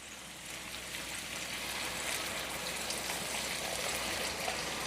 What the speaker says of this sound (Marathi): साधारण अर्धा ग्लास इतकं पाणी घातलेलं आहे.